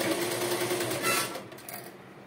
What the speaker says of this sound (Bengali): এইভাবে সেলাই করে নিতে হবে